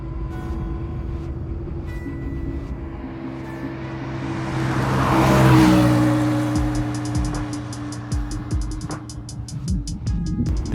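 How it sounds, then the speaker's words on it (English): An air-cooled Porsche 911 3.0 Carrera engine swells into a loud roar as it revs and passes close by, then settles back to a steady, throbbing drone. "The sound coming from the air-cooled Porsche engine sitting behind you makes you want to put your foot down, pick up some speed and hear that engine roar."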